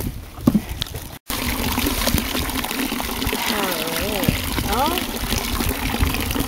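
Tie-dye liquid is dumped into a full bathtub, giving a continuous splashing, gushing water sound throughout after a brief break, with faint voices in the background.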